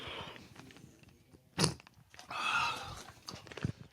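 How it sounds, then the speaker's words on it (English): Close chewing and crunching of ice, a sharp bite followed by a burst of gritty crunching, loud and near the mic with no talk over it. "I'm sorry if the ice sounds are so annoying. You guys can hear me like chewing and like smacking."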